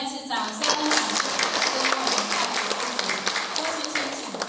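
A hall audience at a temple's year-end gathering breaks into steady, dense applause that holds for several seconds, with a voice carrying faintly over the clapping.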